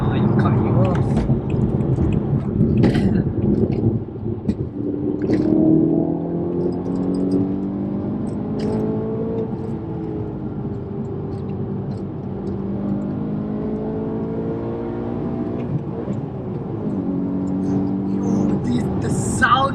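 A modified BMW E92 M3 on air suspension accelerating on a motorway, its engine drone rising and falling steadily in the background while people talk inside the car.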